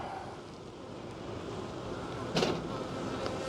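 Honeybees swarm over the frames of an opened backyard hive, a soft continuous hum with faint wind noise on the microphone and a brief louder rustle partway through.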